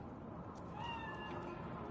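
A cat meows in the video game Cyberpunk 2077, a few drawn-out tonal cries over a steady, noisy ambient background, moderately faint and with no talk.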